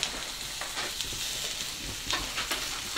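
Beef browning in oil in a pot for a country-style beef stew, giving a dense continuous sizzle with occasional scraping stir sounds, close and steady, no one speaking.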